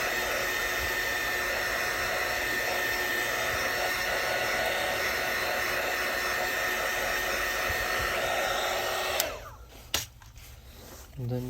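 A hot air tool blows steadily on a Samsung Galaxy S8+ to soften the battery adhesive, a loud continuous whoosh that cuts off near the end and leaves a few handling knocks.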